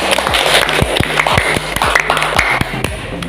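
A small group clapping together in a classroom, sharp close claps in an uneven rapid rhythm for a few seconds with light background chatter.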